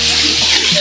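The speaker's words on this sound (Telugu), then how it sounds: "ఎంత కష్టపడి వచ్చిన వాటర్ ఫాల్స్ ఇదేరా" Gandhar Kila waterfall near Mancherial, Telangana, a loud steady rush of falling water close by, filling the brief moment with continuous broadband roar.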